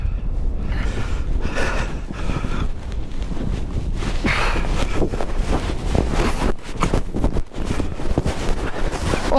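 Bitter Arctic wind at minus eleven degrees buffets the microphone in rough, rumbling gusts, loud and close, with breathy gasps over the top and no speech.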